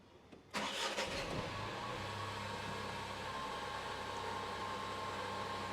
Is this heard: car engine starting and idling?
yes